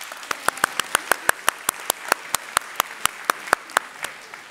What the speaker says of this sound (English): They're quite right to give you all a clap